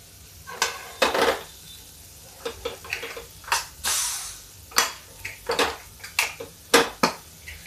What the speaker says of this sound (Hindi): मसाला थोड़ा सा पक जाता है, गैस तेज कर देते हैं